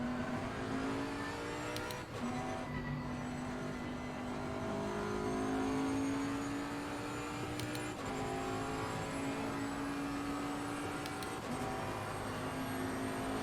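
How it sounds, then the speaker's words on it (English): A race car engine in the racing game Assetto Corsa Competizione holds a steady, moderately loud drone. Its pitch climbs slowly and drops sharply at gear shifts near two and eight seconds, with no talking. "Hopefully the car sound is loud enough to hear, but not so loud you can't hear me."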